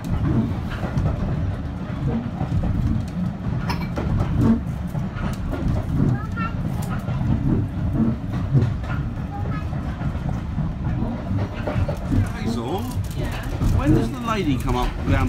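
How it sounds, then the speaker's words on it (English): A diesel passenger train runs along rails toward Whitby, its steady low rumble and rolling clatter heard from on board, with people talking over it. "So actually, it'll be this train going all the way back to Whitby."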